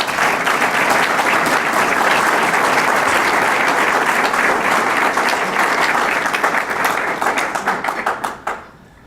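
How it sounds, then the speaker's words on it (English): A large audience at a Chicago civic talk by City Treasurer Kurt Summers breaks into sustained, loud applause, a thick even roar of clapping that holds for around eight seconds before thinning into a few scattered claps and stopping. "I'd like to give them a round of applause."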